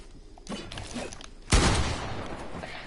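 Single loud gunshot in a video game, a sharp booming crack that hits partway through and decays into rumbling echo over background game noise and scattered distant shots.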